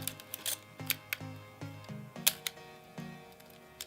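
Mechanical film camera winder being advanced, a series of sharp ratcheting clicks and ticks in uneven rhythm, close and fairly quiet with no talk.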